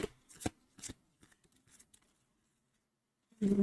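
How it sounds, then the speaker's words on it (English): Oracle cards are shuffled in a few quick riffling bursts, close and crisp, with a pause before a final rustle. "I feel like I need to shuffle once more."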